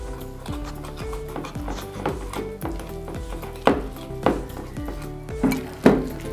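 A spoon or hand mixes paneer tikka marinade with roasted besan, coriander powder and ajwain in a bowl, making a series of knocking, clattering strokes that grow louder toward the end.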